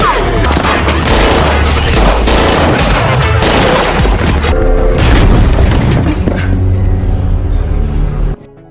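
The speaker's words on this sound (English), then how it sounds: "Subsequently, a violent firefight ensued between Alphonse's men and the Jamaicans" A violent film firefight between gangs, dense continuous gunfire and booming blasts filling the scene loudly for several seconds before cutting off abruptly.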